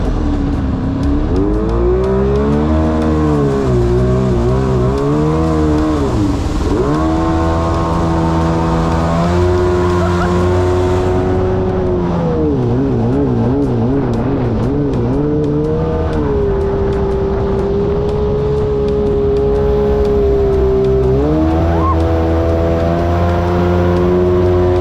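A welded jet jon boat's engine runs loud and close for the whole stretch, its pitch rising and dropping as it revs, wavers and bogs down, then picks up again.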